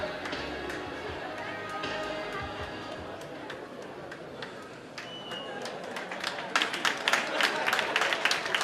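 Audience applause and cheering at a regional beauty pageant final for Veneto and Trentino Alto Adige, a crowd clapping steadily that swells into dense, loud claps, with chatter and a voice speaking over it.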